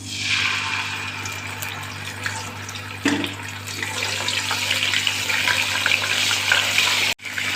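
Steady sizzling and crackling of garlic and ginger frying in hot oil, with a brief clatter partway through as something is stirred or added.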